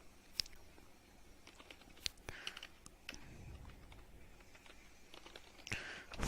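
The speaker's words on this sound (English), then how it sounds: "I'm going to type title here." Computer keyboard typing, soft scattered key clicks at irregular intervals, faint and close in a quiet room.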